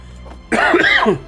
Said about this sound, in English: Excuse me, I got a little bit of a cough today.